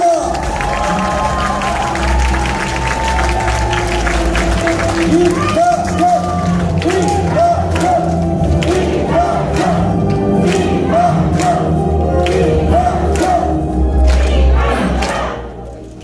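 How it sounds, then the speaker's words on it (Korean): Crowd applauding at the launch ceremony of a political supporters' forum in Gyeongbuk, steady dense clapping and cheering filling the hall for about sixteen seconds, with music and voices mixed underneath before it fades at the end. "여러분 큰 박수 부탁드립니다."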